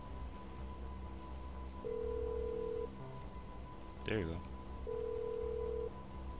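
A phone call to Mors Mutual insurance in Grand Theft Auto V rings out as two evenly spaced ringback tones, a voice speaking briefly between them over a low background.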